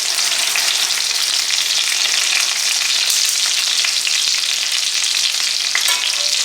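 Chicken frying in oil at 325 degrees makes a loud, steady, bubbling sizzle that holds evenly for the whole stretch, heard up close with no voices.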